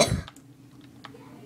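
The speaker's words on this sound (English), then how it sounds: "cough." A single short, loud cough right at the start, followed by faint clicks and quiet room noise.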